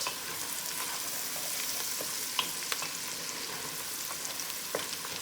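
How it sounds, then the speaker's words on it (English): Butter for a stovetop tuna casserole sizzles steadily in a hot pan, a dense close frying hiss with a few small pops and utensil scrapes, and no voices. "And I'm going in with another tablespoon of butter."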